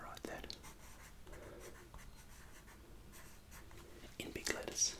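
Pen or marker writing in big letters on a paper map of Peru in a quiet ASMR setting, with soft scratchy strokes close to the microphone and faint whispering around them.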